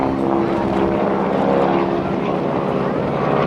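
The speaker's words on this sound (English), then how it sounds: "He's going to roll the airplane upside down, and let's see what happens to the wheels in the gear check." An aerobatic propeller airplane at the 2012 NAS Oceana airshow rolling upside down, its engine a loud, steady droning roar, with an announcer speaking over it.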